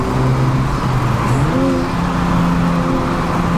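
A right-hand-drive Honda DC5R Type R engine revs hard and loud close by, its pitch sweeping up and down in quick climbing pulls with a steady mechanical roar throughout.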